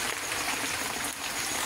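Floodwater from Typhoon Enteng inside a flooded house in the middle of the night, a faint, steady trickling and flowing wash with no break.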